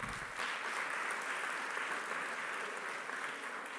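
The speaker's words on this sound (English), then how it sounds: "A big applause for them." An audience at a national sports awards ceremony applauds steadily, a dense, even roar of many hands clapping at some distance, sustained without pause for the whole stretch.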